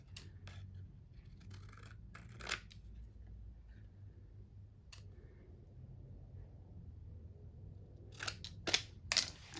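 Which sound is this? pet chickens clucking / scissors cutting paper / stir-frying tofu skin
scissors cutting paper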